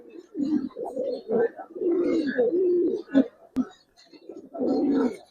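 Giribaz pigeons in a loft give deep, rolling coos in repeated bursts, close and fairly loud, with a sharp click between phrases.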